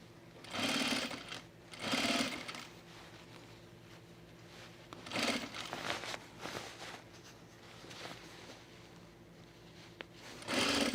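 A sewing machine stitches a men's utility jacket in several short, loud whirring bursts separated by quieter pauses with faint handling noises, close by and without talk.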